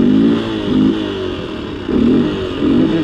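A yellow 1980 Honda C70 Passport motorcycle engine, just started with the choke on, idles roughly close by and is blipped in several short revs, its note rising and falling in a loose rhythm with no talk.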